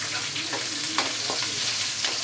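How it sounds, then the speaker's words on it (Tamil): Garlic sizzles steadily in hot oil in a pan, a dense continuous frying crackle with a few sharper pops, part of a tempering with dried red chilies for a garlic mango rice dish. "பூண்டு நல்லா செவரணும்."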